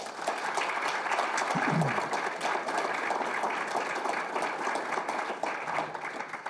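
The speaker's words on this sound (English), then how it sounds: "Please give these folks a round of applause." Steady applause from an audience at a high school Wall of Fame ceremony in Camrose, a continuous wash of clapping that holds at an even level throughout.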